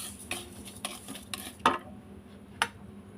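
Roasted semolina and sugar are stirred in a pan, giving quiet scraping and a few sharp clinks of a spoon against metal over a faint low hum.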